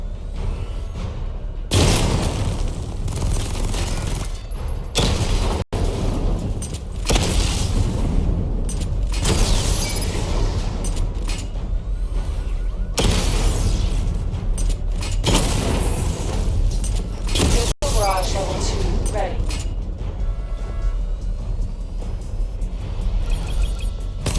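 Missile barrage explosions from the video game Batman Arkham Knight: repeated loud, booming bursts and rumbling blasts that run almost nonstop, mixed with mechanical whooshes and clanks.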